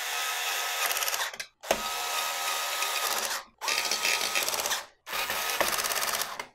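CPU cooler mounting screws being tightened in alternating corners on a Ryzen stock cooler, heard as four close bursts of rapid ratcheting clicks from a driver, separated by short pauses.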